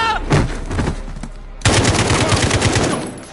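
Rapid automatic gunfire from a Modern Warfare campaign firefight, loud and close, with a short burst at first, then after a brief gap a sustained volley of rhythmic shots.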